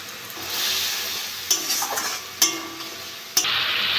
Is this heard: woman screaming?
no